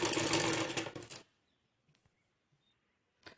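A sewing machine stitching salwar fabric runs in one fast, steady whirring burst for just over a second, then stops abruptly, followed by near silence and a single faint click.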